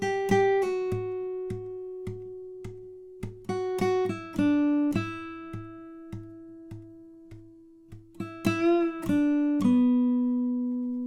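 Guitar plays the closing phrase of the solo from a song, single plucked notes over a repeated low tone in an even pulse, fairly quiet and close, ending on a held note, no speech.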